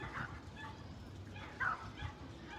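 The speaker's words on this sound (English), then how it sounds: "A couple of dogs up there having a fight." Two dogs fighting outdoors at a distance produce faint, scattered yips and barks with one louder sharp yelp, all over steady background noise.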